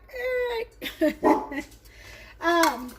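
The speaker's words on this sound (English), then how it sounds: "She's still barking over here at the door." A dog whines and yips in high, drawn-out bursts, close by, with short pauses between calls.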